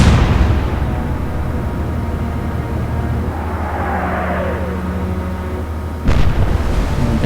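Naval gunfire in the Atlantic Fleet game: a low, heavy rumble of ship engine and sea persists, and a sharp, loud boom cracks out near the end, with no talk.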